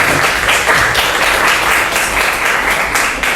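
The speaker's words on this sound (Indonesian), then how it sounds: "Tepuk tangan sekali lagi teman-teman" An audience in a classroom presentation session applauds with steady, dense clapping that stays loud and close for a few seconds before starting to thin out.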